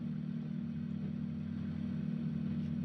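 Steady low engine drone from a Tesla Cybertruck idling in the BeamNG.drive video game, a continuous even hum with no revving, heard alone.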